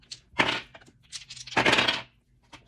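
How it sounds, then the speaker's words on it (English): Dice rolled during a tarot reading clatter in two short rattling bursts, close and fairly loud, with small scattered taps around them and no talk. "we're gonna roll the dice"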